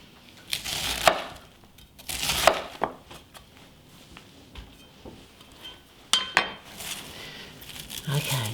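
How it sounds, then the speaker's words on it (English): Savoy cabbage roughly chopped with a knife on a board, several sharp bursts of chopping in uneven clusters separated by quieter gaps, close and fairly loud. "and again we just want a rough chop."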